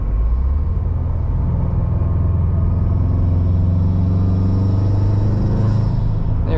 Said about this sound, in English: There, you get a little of that induction noise.